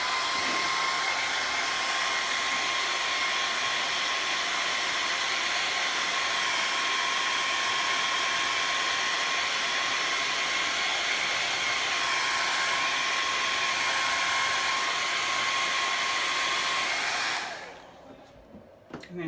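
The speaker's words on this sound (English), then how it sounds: "put the dryer on this Dixie Belle real quick" A hair dryer blows on wet metallic paint in a steady, loud whoosh with a faint whine for about seventeen seconds, then switches off and winds down.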